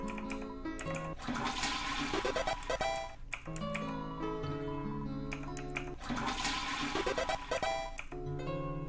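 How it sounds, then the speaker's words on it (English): A toilet flushing in the video game Deltarune, a continuous rushing and gurgling swirl of water that repeats in two long flushes over layered game music, with no talk. "I must keep flushing this toilet."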